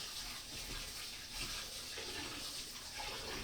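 Tap water runs steadily into a pot of soaked rice being washed for Jamaican rice and peas, a continuous close hiss and splash with no talking.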